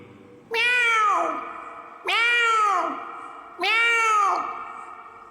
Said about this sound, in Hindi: कुछ और बिल्लियाँ।